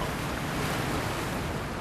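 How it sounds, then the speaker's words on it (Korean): Rough ocean waves at sea heard aboard a red snow crab fishing boat off Jumunjin, a loud, dense, unbroken wash of surf and wind noise. "근데 이게 파도가 장난이 아니네요."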